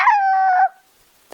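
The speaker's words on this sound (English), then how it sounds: "The coyote howled, sinking into the deep snow far behind." A coyote howls once in a drawn-out, wavering wail with rich harmonics, loud and close, fading after about half a second into near silence before a brief soft thump.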